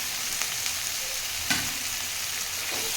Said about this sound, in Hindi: और इनको थोड़ी देर भूनेंगे।